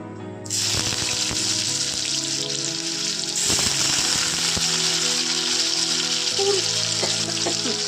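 Vegetables for chorchori fry in hot oil, a loud, steady sizzle that starts abruptly and crackles continuously throughout, with occasional stirring scrapes and no talk.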